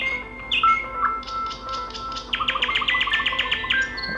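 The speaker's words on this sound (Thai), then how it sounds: "เสียงลิงโทนกันหน่อยเพื่อน" A budget keypad mobile phone's electronic ringtone plays bright chirping, bird-like trills in quick repeated bursts, fairly loud and close.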